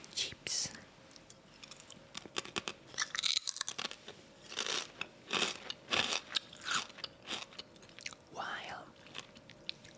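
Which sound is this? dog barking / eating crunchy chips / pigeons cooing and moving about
eating crunchy chips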